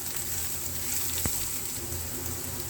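Chopped onions fry in oil in a pan for a samosa filling, giving a steady, soft hiss of sizzling that runs evenly throughout, with one brief sharp tap near the middle.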